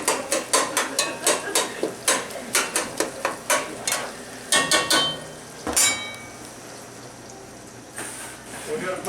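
Ground meat frying in a pan for Super Bowl queso, with a steady sizzle under repeated sharp scraping and stirring clatter from a utensil against the pan, close and fairly loud.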